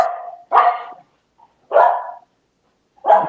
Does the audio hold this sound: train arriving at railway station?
no